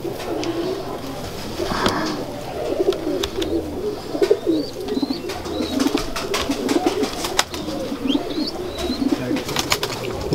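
Banke pigeons coo repeatedly in a low, throaty rhythm, several birds overlapping close by, with scattered chirps and faint background voices.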